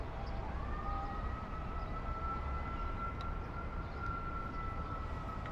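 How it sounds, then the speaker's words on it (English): A steady, wavering siren tone rises and holds over continuous street noise and rumble, fairly distant, with no talking. "Some sort of siren coming down the street."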